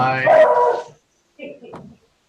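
A dog barks during a city commission meeting, giving a loud, close bark followed after a short pause by a fainter yip or whimper.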